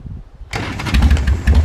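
Harley-Davidson Sportster motorcycle engine, already warmed up, starting after a brief quiet moment: a sudden crank catches into a loud, lumpy, pulsing idle close by.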